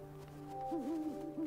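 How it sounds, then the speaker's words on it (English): Owl hooting in the video game Never Alone, a few wavering hoots rising and falling over a steady low game hum, moderately loud and clear with no talking. "I mean, the owl's up there."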